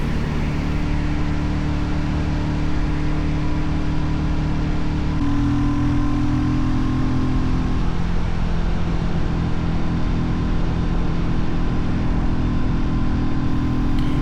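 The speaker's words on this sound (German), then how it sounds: "dass sich der Motor mit diesem DNA-Luftfilter schon deutlich freier anfühlt und auch anhört" A Royal Enfield motorcycle engine fitted with a DNA air filter runs while riding, a loud, continuous low thumping drone that shifts pitch partway through as the rider changes speed, with no talking.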